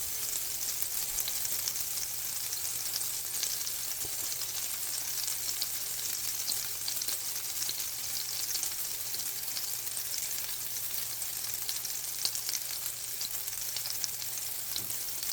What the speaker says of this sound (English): we'll just let this one cook until it comes up to at least 160 degrees